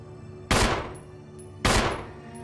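Two loud gunshots from a handgun in the Resident Evil 1 video game, spaced about a second apart, each a sharp blast with a decaying echoing tail over a low ambient hum.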